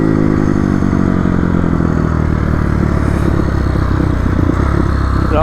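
Dirt bike engine running loud and close, a dense steady rumbling drone with a rattling mechanical texture and no clear revving.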